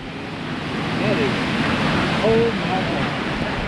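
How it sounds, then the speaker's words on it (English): Loud, steady roar of 60 to 70 mph storm winds with gusts over 80 mph, broadband and continuous with gusting swells, blowing hard close to the microphone; faint voices under it. "So we're getting maybe 60 or 70 mile an hour winds now."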